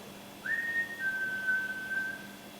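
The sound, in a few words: person whistling during a paranormal investigation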